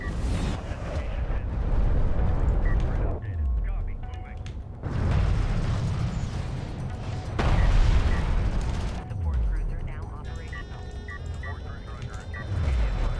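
An Assault Cruiser is destroyed in the strategy game Homeworld: Deserts of Kharak, with repeated deep booms and rumbling blasts under continuous commentator talk.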